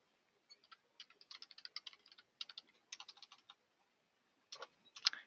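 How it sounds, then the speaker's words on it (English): Fingers tap on a computer keyboard in quick, irregular bursts of light clicks, pausing briefly before a final flurry of keystrokes, close and quiet. "Apologies for the typing here."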